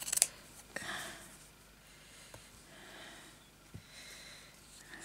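Scissors cutting pink velvet fabric for a crazy patchwork journal panel, a few soft, sparse snips and faint rustles close by in a quiet room.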